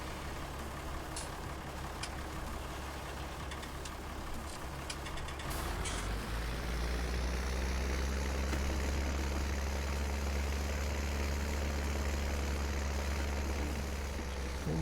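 Heavy tractor engine idling in Farming Simulator 19 on the Hinterkaifeck farm map, a steady low rumble that grows slightly louder and fuller partway through, with a few faint clicks early on and no talk.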